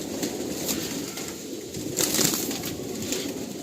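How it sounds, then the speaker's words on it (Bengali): Ablak pigeons released at a loft, wings flapping in a steady rustling burst with soft cooing underneath, close and fairly even, no talking. "নিয়ার অ্যাবাউট 100+ আবলুক পায়রা, দোয়াশ সদ্দম পায়রা, সব রকম পায়রাই রয়েছে"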